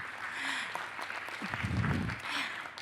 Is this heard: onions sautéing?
no